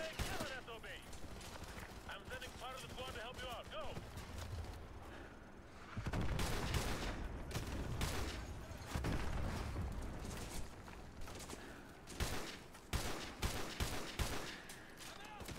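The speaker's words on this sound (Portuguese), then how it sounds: "Cara, não adianta atirar no veículo que não vai fazer nada" Gunfire aimed at a vehicle in Call of Duty MW2 Remastered on PC: dense bursts of rapid shots and sharp cracks that swell and fade in loudness, with loud clusters of impacts crowding the later stretch.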